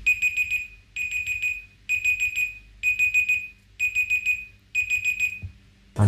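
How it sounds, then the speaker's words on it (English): An Android clock app timer alarm rings through motherboard audio on a vintage AMD office PC, sounding as repeated bursts of rapid electronic beeps in six regular groups, loud and close with no talking. "I went into the clock app and set a timer for 1 second"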